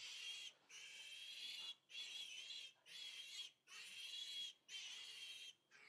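Piglets just after castration give a string of shrill, high-pitched squeals and grunts, five long close cries broken by brief pauses, with no talking.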